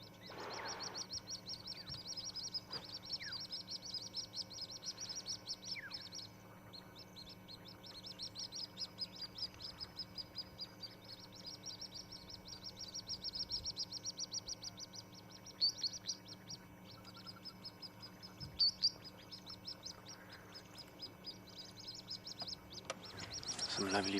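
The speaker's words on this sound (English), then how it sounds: "Some lovely bird life here along the side of the dam." Small birds chirp and call steadily along the side of a dam at sunrise on safari, including plovers and little grebes, with occasional duck-like quacks and a low background hum throughout.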